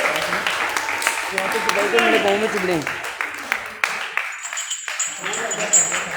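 During a kyokushin karate belt promotion ceremony, an audience claps through a busy hall while a voice speaks over it. The applause is moderate and somewhat scattered, with a short drop midway before it resumes.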